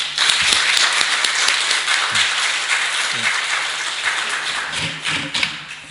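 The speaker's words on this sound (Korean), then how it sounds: "귀한 찬양 해주신 우리 사랑미라 선교회 분들에게 우리 격려의 박수 부탁드리겠습니다." Church congregation clapping in encouragement for a mission group's choir after a hymn at a Sunday service, a full, close round of applause with a few sharper individual claps and light thumps, gradually thinning toward the end.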